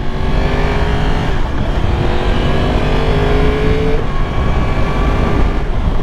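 A brand new Yamaha R1 sport motorcycle engine while riding on the road, a loud steady drone with shifting engine tones and wind rush, heard up close throughout.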